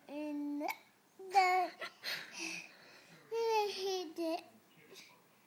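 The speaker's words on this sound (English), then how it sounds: "You got the hiccups." A two-year-old toddler sings in short childish vocal phrases, repeatedly broken by abrupt hiccups that cut each line off, close and fairly loud.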